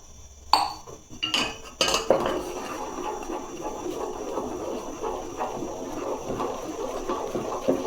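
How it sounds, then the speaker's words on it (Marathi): Flour is stirred into a pot of boiling water with a rolling pin for rice and moong dal papad dough, making clattering knocks and scrapes against the pot at first, then a steady, busy scraping and stirring that carries on close by. "लाटण्याच्या सहाय्याने आपल्याला हे व्यवस्थित मिक्स करून घ्यायचं आहे पीठ।"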